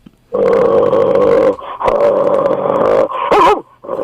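A guard dog growls loudly and steadily at close range in long, rumbling stretches, pausing briefly between bouts, with a sharper snarling burst near the end.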